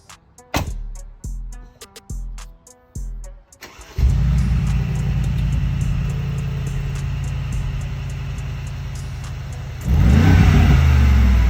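A Mercedes G63 AMG fires up loudly after a few sharp clicks and thumps, then settles into a steady, close, rumbling idle before a sudden hard rev near the end. No one speaks.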